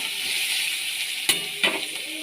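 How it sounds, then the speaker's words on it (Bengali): Onions fry in a pan with an even, close sizzle, broken by two brief clinks of a utensil against the pan; no voices. "পেঁয়াজগুলো লাল লাল করে ভেজে নেব।"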